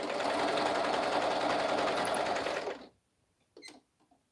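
A serger sewing machine stitches romper fabric in a fast, dense, continuous whir for nearly three seconds, then stops, leaving near silence with a brief faint clatter.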